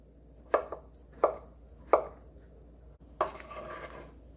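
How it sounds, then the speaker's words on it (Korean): A knife slicing through a king oyster mushroom on a cutting board, four distinct crisp chops spaced about two-thirds of a second apart, close and clear with no voices. "새송이 버섯 한 개 썰어줍니다"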